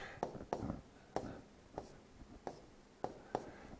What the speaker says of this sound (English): Let me write this again.